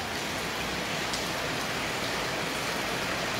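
Steady rain falling in Sicily, a dense, even hiss of drops on surfaces, constant and close with no other sounds over it.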